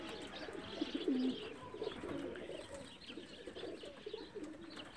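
Male racing pigeons coo in a steady, low murmur during an outdoor training session, overlapping calls close by with some faint chirps and background bird chatter throughout.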